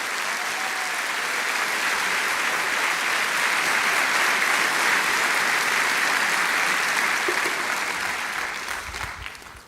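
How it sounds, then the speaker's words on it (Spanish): A church congregation applauds after a sermon, broad steady clapping from many hands filling the room for several seconds, then thinning and fading out at the end. "Dele un aplauso a Dios y entiende la palabra."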